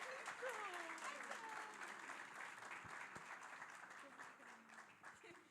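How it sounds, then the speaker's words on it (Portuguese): Audience applause in a church setting, sustained clapping from a crowd with voices mixed in, fairly steady then slowly tapering over several seconds. "Pode aplaudir mais, gente, merece."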